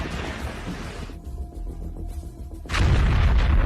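A Ukrainian tank strikes and destroys a Russian APC in war footage, heard as a muffled distant boom that swells into a loud, sustained roar of blast noise near the end.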